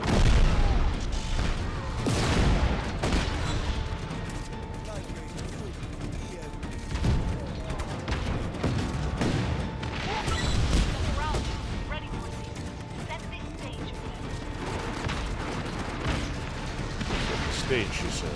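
Tank cannon fire and explosions in Just Cause 3 boom repeatedly over a rumbling engine and scattered gunfire, with a person talking throughout.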